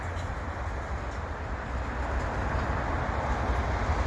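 A freight train rolls slowly past Lachine EXO station on a winter afternoon, a steady broad rumble and hiss of wheels on rail that swells slightly toward the end, with no voices.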